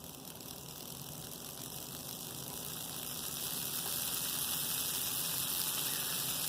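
A rebuilt 40-year-old Bachmann pancake model train motor runs steadily with a continuous whirring hum that builds slightly in loudness, close up with no talking.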